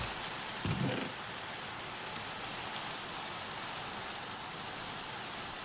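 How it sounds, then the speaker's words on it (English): Steady rain falling in the Minecraft video game, a dense continuous hiss holding level throughout with a brief low thump near the start. "I hate the rain."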